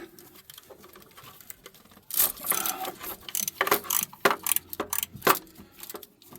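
A hand ratchet works on tight engine mount bolts of a 2009 GMC, giving bursts of quick clicking strokes close by, quiet at first and then busier and louder in uneven runs.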